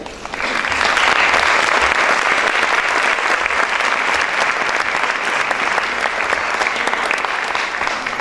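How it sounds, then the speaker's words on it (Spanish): Audience clapping for Doctor Reina at a Latin American architecture teaching conference at a university, a dense, sustained round of applause that starts quickly and stays strong until the end. "les pido un fuerte aplauso para la doctora Reina"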